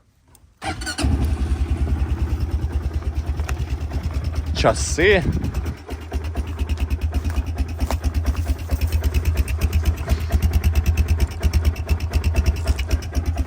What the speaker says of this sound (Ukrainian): Давайте заведемо, послухаємо його.